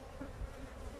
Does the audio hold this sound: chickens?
no